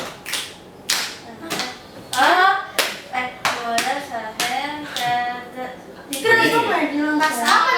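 Children play a concentration clapping game in a classroom, with sharp hand claps in short bursts mixed with kids' voices and chanting, a teacher's voice leading.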